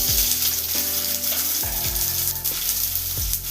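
Onions and fennel seeds sizzling in hot oil for a vegetarian pasta, a loud crackling fry with several clanking pan and spoon knocks, no voices.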